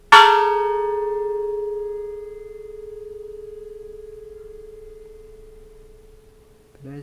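A bronze Japanese Buddhist temple bell is struck once, and a bright attack settles into a long pure ringing tone that slowly fades over several seconds before a faint knock at the end.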